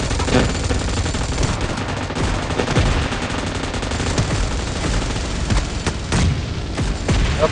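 Dense, loud gunfire in the video game PUBG Mobile, with rapid machine-gun bursts and individual shots layered continuously throughout and barely any pause.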